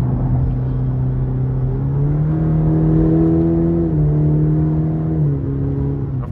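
A 2023 Cadillac CT4-V with a four-cylinder engine accelerating hard from inside the cabin, a loud steady drone rising in pitch through gear changes.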